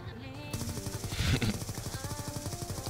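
Rapid automatic gunfire in the game Black Ops 2 rattles in fast bursts, with a louder impact burst in the middle and synthetic game tones mixed in.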